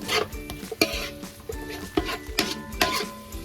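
Chicken biryani ingredients being mixed in a bowl, with spoon and utensil scrapes and clinks striking in quick irregular bursts, close and fairly loud, over a steady kitchen background.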